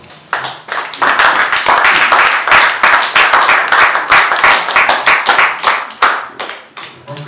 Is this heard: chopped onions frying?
no